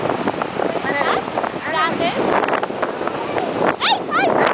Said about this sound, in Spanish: ¿qué te parece las olas del mar?